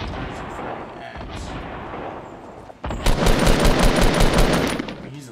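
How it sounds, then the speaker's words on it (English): Gunfire in a Fortnite battle royale match: a constant low rumble of game ambience, then a loud burst of rapid repeated shots that keeps going to the end. "Oh, he's firing at someone."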